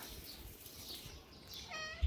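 A pet cat in a cat breeder's home gives a short meow near the end, faint and brief against a quiet room background.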